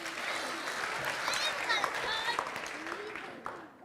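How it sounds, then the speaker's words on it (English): Audience applause for the children at a kids' programme, a soft spread of clapping with voices mixed in, fading toward the end. "Round of applause for our kids."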